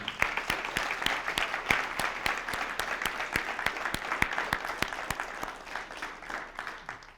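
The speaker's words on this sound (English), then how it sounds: "How about one last final round of applause for the seniors of 2021?" An audience at a senior band ceremony applauds the graduating seniors, a steady, fairly faint patter of many hands with a few sharp, distinct claps standing out at regular intervals throughout.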